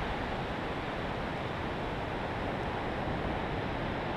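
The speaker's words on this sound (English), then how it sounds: "Pretty nice waves and stuff," Small, glassy ocean waves break on a foggy shore, a steady broadband wash of surf that stays faint and continuous with no talk.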